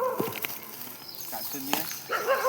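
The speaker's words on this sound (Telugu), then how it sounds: "మొత్తం కుక్కలు అయితే వస్తున్నాయి కదా." Dogs approaching through a forest give short barks and whimpering yips at close to middle distance, mixed in with people talking nearby.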